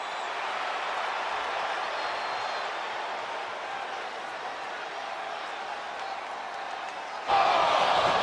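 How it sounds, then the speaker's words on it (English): Wrestling arena crowd in the WWE 2K25 video game, a broad steady roar of buzzing spectators that swells louder near the end. "this crowd is buzzing over that"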